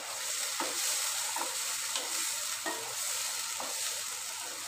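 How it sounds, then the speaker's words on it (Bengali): Potatoes stir-fried with turmeric and cumin powder in a pan give a steady sizzle, broken by a handful of spoon scrapes at irregular intervals, with no talking. "এবার বেশ ভালো করে কষিয়ে নেব।"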